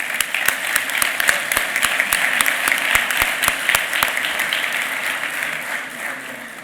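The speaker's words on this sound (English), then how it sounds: "Please give a big round of applause to Jonathan Lyons," Audience applause for the master of ceremonies at a summit event, a dense, steady wash of clapping from a large crowd that holds loud throughout, a few sharper individual claps standing out early and no voices over it.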